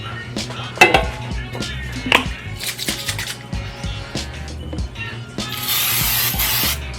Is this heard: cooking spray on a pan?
yes